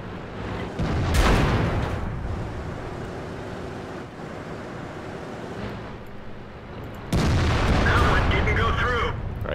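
Tank guns firing shells in the World of Tanks game, heavy booming blasts ringing out at two points amid a constant rumble of engines and battle noise, with a player talking over it.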